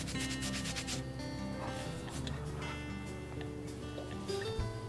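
Dirt and old grass are rubbed off the shaft and mounting bracket of a string trimmer, a close, continuous scrubbing and rasping with faint ringing metal tones underneath.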